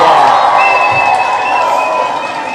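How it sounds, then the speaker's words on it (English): Audience at the end of a live comedy show cheering and applauding, a dense, loud wash of crowd noise holding steady throughout with no distinct voice above it. "You all deserve a huge round of applause."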